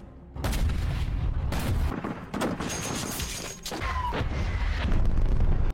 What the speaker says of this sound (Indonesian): segera memerintahkan pasukan artileri untuk membunuh musuh dengan tembakan jarak jauh